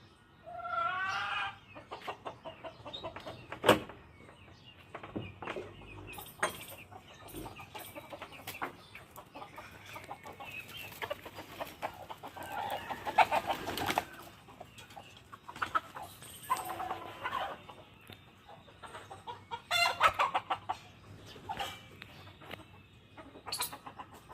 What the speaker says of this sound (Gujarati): તમને બધાને મારા દેશી કૂકડા બતાવું